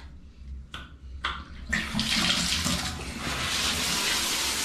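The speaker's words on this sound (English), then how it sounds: "That's the shower." A hotel room shower in Torremolinos, Spain, starts after a few clicks and knocks, then runs in a steady, close rush of spraying water that swells slightly and continues to the end.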